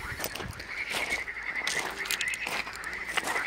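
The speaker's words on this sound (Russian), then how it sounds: "Лягушечки." Frogs croak outdoors near a resort beach at Praskoveevka, Gelendzhik, in spring, a steady chorus of rasping calls repeating continuously at moderate distance with no talk.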